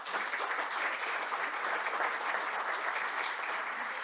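Sustained audience clapping at a business forum panel introduction, dense and even throughout with no voices over it, moderately close and steady from start to finish.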